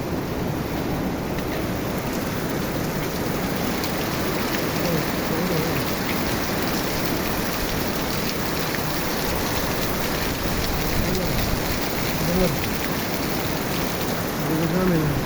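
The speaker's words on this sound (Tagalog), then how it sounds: "Lakas na ulan." A downpour of heavy rain hisses steadily and loudly nearby, an even wash of drops hitting surfaces with only slight surges throughout, and no voices are heard.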